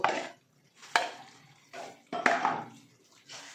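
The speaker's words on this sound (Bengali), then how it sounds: "সেই আলুটা দিয়ে কিন্তু আবার আমি এই মশলাটা নাড়াচাড়া করব" Masala being stirred with boiled potatoes in a pan for a homestyle aloo dum, several distinct scraping strokes with short quiet gaps between them, close and fairly soft.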